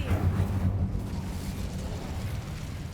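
An Incendio fire spell is cast in Hogwarts Legacy, releasing a deep, rumbling whoosh of flame that bursts out loud at the start and then settles into a sustained low roar.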